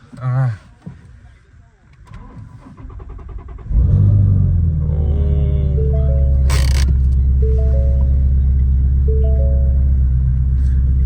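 An exotic sports car fitted with Alcantara sport seats cranks and fires up after a quiet stretch with some talk, then settles into a loud, deep, steady rumbling idle with brief blips of revving, heard up close.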